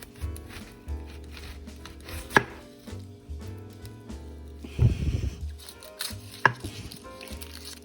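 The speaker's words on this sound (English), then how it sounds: "Next, we're gonna cut up this white onion." A knife slices the root and stem off a white onion on a cutting board, giving a few sharp, close cuts and a short scraping rub between them, with no one talking.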